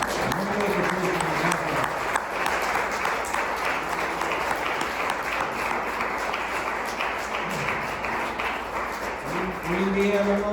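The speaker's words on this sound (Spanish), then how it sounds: "Denle un aplauso a Cristo, Señor." A congregation at a church service applauds for Christ, with dense, sustained clapping filling the room throughout and a voice speaking over it near the start and end.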